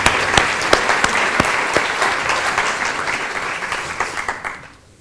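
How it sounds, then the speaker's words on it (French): Audience applause at a regional eloquence competition in Lot-et-Garonne, a steady dense clapping from a crowd that holds for several seconds, then thins out and fades toward the end. "Bon, on peut aussi applaudir messieurs,"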